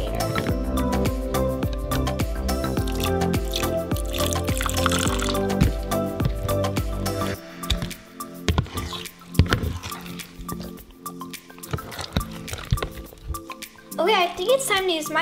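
Hands squish and stir clear slime with activator, making close, wet sticky squelches and drips, first under background music, then alone with a brief voice near the end.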